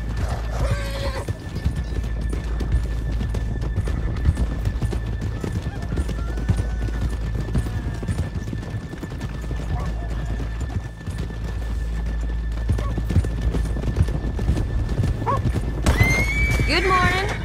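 Horses walking on a town street in Red Dead Redemption 2, with steady clip-clop hoofbeats throughout and a whinny near the start and again near the end, while voices speak over them.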